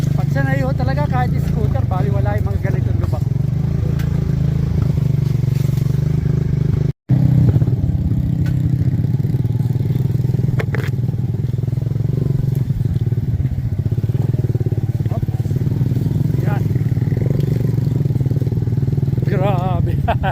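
A scooter engine droning over a rough, potholed dirt road in San Andres, Quezon, with clattering thumps from bumps and someone talking loudly in Tagalog over the ride.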